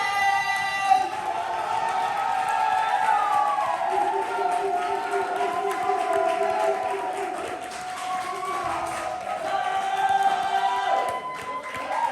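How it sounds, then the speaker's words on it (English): A crowd at a poetry slam cheers, whoops and claps steadily. A loud voice carries over the noise throughout. "I want you to stomp your feet. I want you to clap your hands."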